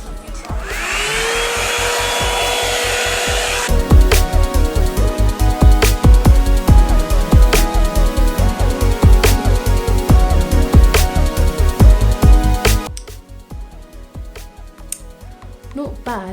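A Revlon hairdryer brush blows steadily while drying hair, a loud continuous whoosh that shifts into a rhythmic, repeating whirring with brushing strokes, then drops sharply near the end.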